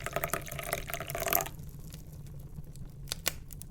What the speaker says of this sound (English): And you pour up your favourite nightly drink in your favourite mug.